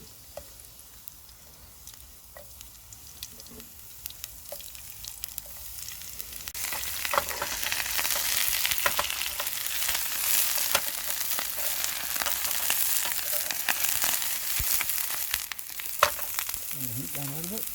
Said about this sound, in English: we'll cook these up. We're going to have a bacon and Blewit butty.